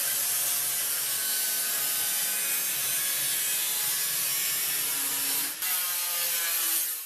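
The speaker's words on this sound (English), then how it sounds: "I could get away with using the angle grinder to cut this out" An angle grinder cutting a shallow curve out of sheet metal for a propane forge, giving a continuous loud, harsh grinding whine that carries on throughout with a brief dip near the end, and no talking.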